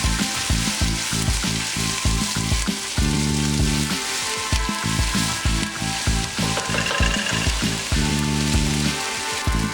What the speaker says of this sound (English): Once your oil is hot enough, it's time to add in the onions.